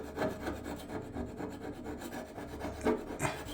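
A metal scraper scraping water-based paint and primer off a surface, a run of quiet rhythmic rasping strokes close by.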